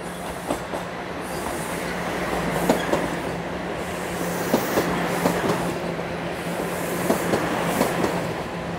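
A Toronto subway train rumbles past between Rosedale and Bloor-Yonge stations with steady rolling noise and periodic clickety-clack wheel beats, fairly loud and continuous.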